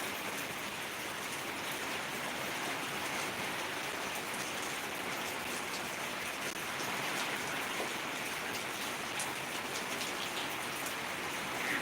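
Steady rain pours down in a dense, even hiss of drops striking surfaces, continuous and unbroken throughout with no voices.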